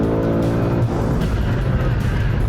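A BMW M5 on a race track, its engine droning loud and close with a tonal whine that breaks into rough, broadband tire and engine noise as the car is pushed hard.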